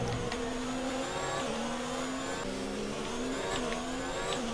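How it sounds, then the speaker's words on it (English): Racing car engine in the F1 2019 video game at Monaco, a tired car making odd noises: a steady, loud droning whine with wavering pitch bands and occasional sharp shifts, continuous throughout with no talk. "The engine is now starting to make some very funny noises."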